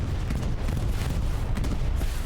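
Aircraft bombs go off during a bombing run in the World War II shooter Hell Let Loose, a dense, continuous rumble of heavy booming blasts with no voices.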